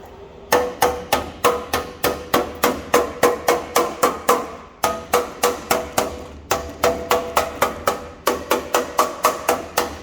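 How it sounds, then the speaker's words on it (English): Steady hammer blows shape a welded car body panel on an Alfa Romeo Brera 3.2 Q4 in a workshop, sharp metallic strikes in quick bursts separated by brief pauses, close and loud. "then hammer it down into the right shape"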